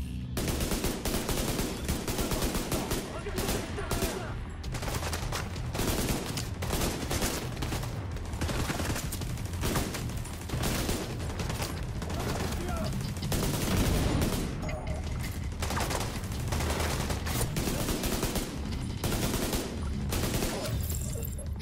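An automated turret in The Division keeps up rapid, relentless gunfire against enemies. Dense bursts run back to back for over twenty seconds, loud and close, with hardly a pause between volleys.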